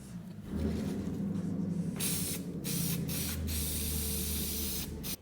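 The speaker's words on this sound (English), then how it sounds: "just spray glue all on the outside and the inside edge" An aerosol can of spray glue hisses steadily at close range while boat carpet is installed, with a few sharper, louder spray bursts cutting in toward the middle and end.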